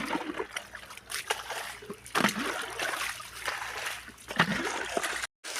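Water splashing and trickling as a spring-fed pond is drained, with irregular splashes and sloshes up close and a few voices in the background.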